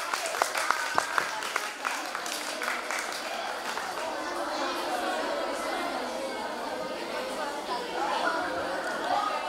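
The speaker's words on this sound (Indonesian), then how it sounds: "Beri aplaus kepada Sumiati" An audience at a general-knowledge and public-speaking round of a contest claps for a contestant, a few sharp claps at first then a sustained, moderately loud applause mixed with crowd chatter.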